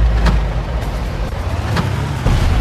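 A car driven through a swampy area in the Far Cry video game, its engine giving a steady low rumble that runs without a break for the whole stretch, with faint thumps rising above it now and then.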